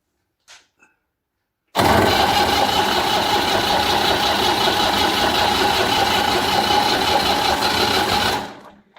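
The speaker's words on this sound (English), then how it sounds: "the battery's on, so let's turn it over and see what we get" A Massey Ferguson 35X tractor diesel engine, fitted with replacement injectors, cranks over steadily for about seven seconds, loud and close, and almost catches before the starter winds down; a couple of small knocks come before it.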